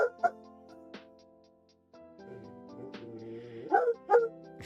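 A dog barks and yips near a close microphone, a few sharp barks at the start and two louder ones near the end, with whimpering tones between.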